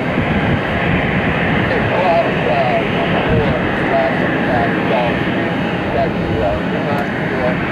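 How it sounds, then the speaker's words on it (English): Boeing 767 jet taxiing to the cargo ramp at Cleveland Hopkins Airport, a steady broadband jet engine roar at moderate distance, with a voice talking over it throughout. "767 should be taxiing over to the cargo ramp"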